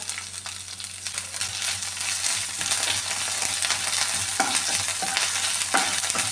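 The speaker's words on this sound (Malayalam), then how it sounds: "ഇനി ഇതിലേക്ക് ഈ മുരിങ്ങയില ഇട്ട് കൊടുക്കാം ഇതും കൂടെ ഒന്ന് ചൂടാക്കി എടുക്കാം" Fresh drumstick (moringa) leaves tossed into a hot pan for a chutney, a dense continuous sizzle with rustling stirring strokes and a few sharp scrapes, close and loud.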